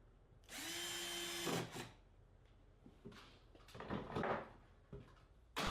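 Power drill driving screws to fit Euro-style soft-close hinges on mudroom locker doors, one sustained whirring run followed by shorter bursts and clattering handling of wood and hardware, close and fairly loud.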